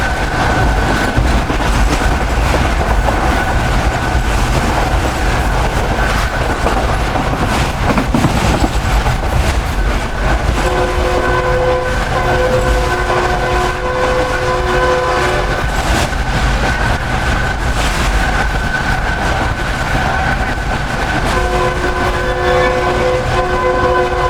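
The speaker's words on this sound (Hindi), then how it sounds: "ट्रेन काफ़ी अच्छी स्पीड में शिफ्ट करने के लिए जा रही है लियाकतपुर को" The Pak Business Express passenger train runs at speed near Liaquatpur, a loud continuous rumble and wheel rattle with sustained horn tones blaring repeatedly over the second half.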